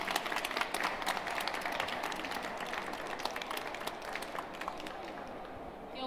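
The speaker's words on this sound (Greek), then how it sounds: "Δώστε ένα χειροκρότημα, ρε παιδιά" Audience applause fills a gastronomy forum session at a hospitality trade show, a moderately faint but steady patter of many hands clapping continuously throughout.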